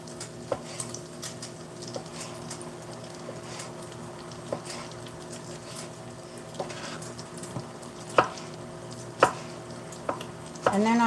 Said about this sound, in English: I'm like roughly chopping them